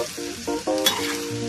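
Sliced Thai pork sausage sizzles as it is stir-fried with chili curry paste and morning glory, a steady close frying hiss with stirring scrapes and no talk.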